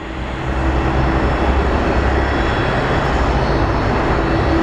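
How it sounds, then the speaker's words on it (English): An airplane at Phoenix Sky Harbor Airport roars steadily and loudly nearby, its engine noise swelling within the first half second and then holding as a dense, continuous drone with no talking. "we have another plane coming in"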